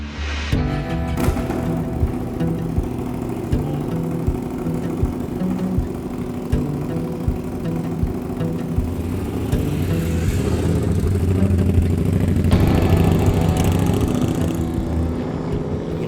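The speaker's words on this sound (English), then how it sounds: "Always cool to watch a bike go down the road" A custom Indian Scout motorcycle engine runs steadily with a low rumble, growing slightly louder and rougher partway through as it revs, with no talking.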